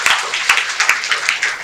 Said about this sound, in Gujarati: વખતે જોરદાર તાળી પાડો.